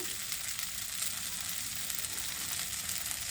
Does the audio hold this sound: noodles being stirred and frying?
yes